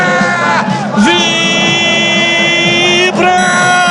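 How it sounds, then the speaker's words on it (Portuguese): A football crowd roars and chants after a Ponte Preta goal at the Majestoso stadium, with loud sustained yelling and whooping. Someone talks over the roar, and a sung, horn-like melody runs through it. "A torcida vibra"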